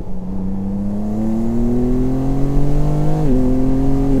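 A BMW M2 G87's engine drones loud and close, its pitch climbing steadily under hard acceleration, then dipping briefly at a gear change before pulling on; no voices.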